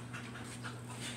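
A dog named Aragon pants steadily and close by, short breathy huffs repeating in quick rhythm over a faint low hum, with no voices.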